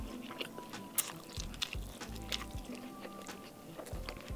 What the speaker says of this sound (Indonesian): Gigitan pertama pasti buat kalian.